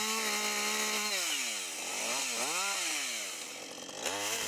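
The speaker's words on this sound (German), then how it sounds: "Hier sieht man das Sägen mit einlaufender Kette." A chainsaw saws through a branch with the chain running inward toward the operator. It roars at high revs, bogs down into a wavering lower growl as it cuts, then picks back up, all close and continuous.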